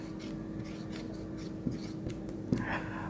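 Marker or chalk scratching across a board during a math lecture on binary subtraction, a series of short faint strokes with a couple of sharper taps near the end, in a quiet room without talk.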